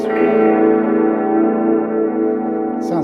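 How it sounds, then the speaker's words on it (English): Modulated delay built around a PT2399 chip, with audible wow and flutter wobbling the pitch of a sustained, distorted guitar-like tone that rings steadily and loud for about three seconds before cutting off. "As you can hear, there's still wow and flutter on there"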